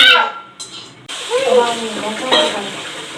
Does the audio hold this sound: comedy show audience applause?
no